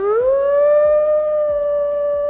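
Wolves in the zoo simulation game Planet Zoo give a loud, sustained howl that rises and then holds a steady tone, with faint thumps beneath it and no talking.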